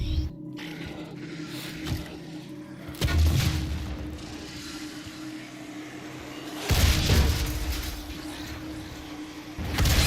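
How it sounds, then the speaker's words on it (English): Deep booming explosions from DOOM (2016) gameplay on Nightmare difficulty burst out twice over a steady rumbling backdrop of in-game noise. The blasts are loud and heavy, with no talk over them. "Explosions everywhere."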